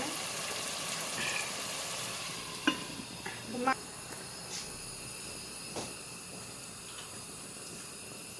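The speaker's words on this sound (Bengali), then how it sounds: "মশলাগুলো আর একটু কষানো হোক" Spices for beef bhuna fry in a pan with a soft, steady sizzle, broken by a few light scrapes and clinks of stirring, moderately close.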